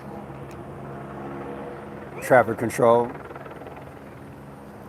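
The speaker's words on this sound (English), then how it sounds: "You probably can hear the helicopter." A helicopter over a protest rally outside an ICE detention center in Broadview, Illinois, heard as a steady, distant low rotor drone throughout, with a voice briefly talking over it.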